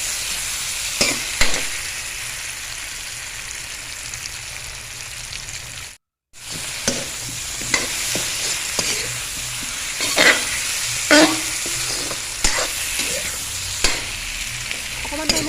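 Kohlrabi fries in a pan with a steady, bright sizzle, broken by frequent scraping clicks from stirring and one brief silent gap partway through.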